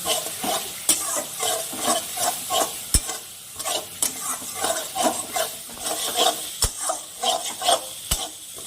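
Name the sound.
stir-frying turmeric and chili powder masala in a pan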